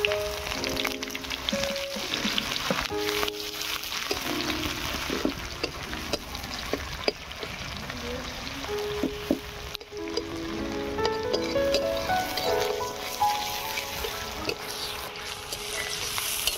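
Chopped onions frying in hot mustard oil seasoned with dried red chilli and nigella seeds, a steady close sizzle and crackle with scattered pops and faint clinks of a stirring utensil.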